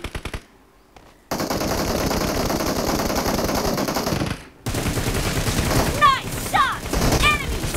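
Rapid automatic gunfire bursts from PUBG Mobile, loud and close, cutting in after a near-silent start, pausing briefly, then resuming with sharp ricochet-like whistles over continued shooting.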